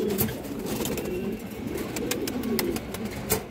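Pigeons coo softly and repeatedly in the background, low rolling calls over a faint ambient hiss with scattered clicks and rustles nearby.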